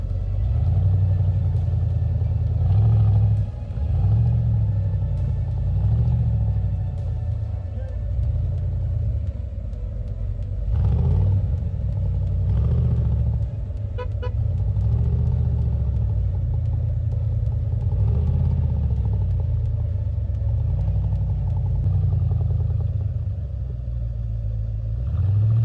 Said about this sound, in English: so you can hear the big rumbling V8 as he departs the